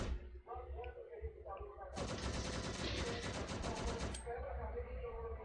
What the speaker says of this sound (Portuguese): eu tô fugindo dos tiros aqui, o T tá comendo lá atrás.